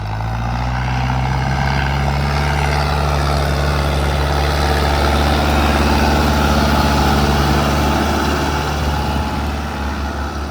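Tractors pulling cultivators across a farm field, among them a Mahindra Arjun Novo 605 Di, a Swaraj 855 FE 4WD and a New Holland. Diesel engines drone loud and steady with a deep, even hum that runs without a break.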